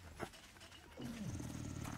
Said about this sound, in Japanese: あ、犬来てる。